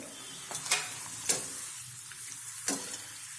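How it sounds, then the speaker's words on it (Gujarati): Potato papad frying in hot oil gives a soft, steady sizzle with a few brief crackling bursts and a faint scrape of stirring, heard close and alone. "આપણે આ રીતે બંને બાજુથી તળી લઈશું"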